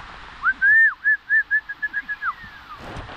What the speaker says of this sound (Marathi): पोपट कसा बसलाय खांद्यावरती बसला शोल्डरवरती